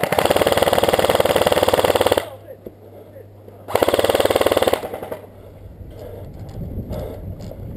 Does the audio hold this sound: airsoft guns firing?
yes